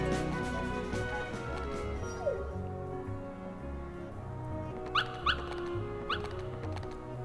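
A puppy in Kingdom Hearts whimpers and yips briefly, giving a few short high cries over steady game music.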